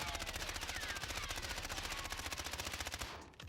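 An ISO submachine gun fires a sustained rapid automatic burst in the Warzone video game, loud, tightly spaced shots for about three seconds before cutting off abruptly.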